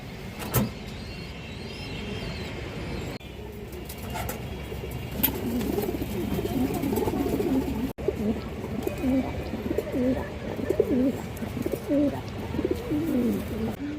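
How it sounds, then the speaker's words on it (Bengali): Pigeons for sale, including old black birds, coo in a steady overlapping chorus nearby, with a few sharper clatters early on. "পুরনো কালা কালা কবুতর এগুলো কিন্তু খুবই ভালো কবুতর"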